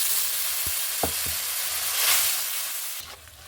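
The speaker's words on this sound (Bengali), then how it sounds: "মশলাটা ভাজা হয়ে গেছে এখন নামিয়ে নিব" Ground spice paste fries with a splash of water in a pan, giving a loud steady sizzle and hiss with a few spoon knocks early on, the sizzle easing toward the end.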